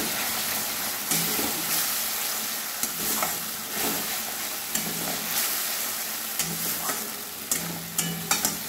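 Spices and sugar for katla kalia fry in a pan with a constant hissing sizzle, broken by repeated spatula stirs and scrapes, close and without talk.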